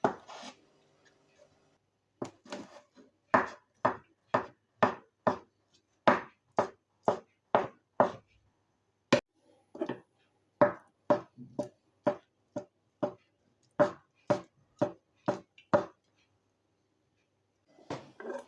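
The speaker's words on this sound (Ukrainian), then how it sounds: "Будемо також їх нарізати довільними шматочками." Boiled eggs being cut into rough pieces with a knife on a board, a series of about twenty crisp, evenly paced taps from close by, with short pauses between runs.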